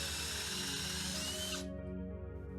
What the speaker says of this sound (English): The center mount hole I created with a small Forstner bit and used a regular drill bit for the end hole.